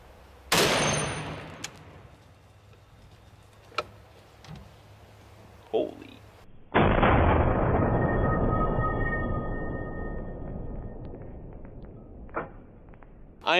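Armor-piercing .50 BMG rifle rounds strike a titanium armor plate outdoors: two separate, very loud cracks several seconds apart, each trailing off in a long ringing echo, with faint small knocks in between.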